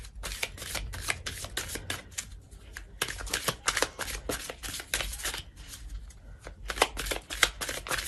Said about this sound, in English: we're going to just pull one oracle card